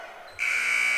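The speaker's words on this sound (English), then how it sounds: "And there's the buzzer." A loud, steady electronic basketball game buzzer at a high school girls' game sounds abruptly and holds without a break, following a moment of quieter crowd ambience.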